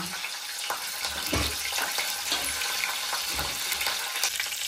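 Mustard seeds, cumin and asafoetida sizzle in hot oil for tomato pappu, a soft steady crackle with occasional faint pops, heard alone and fairly quiet.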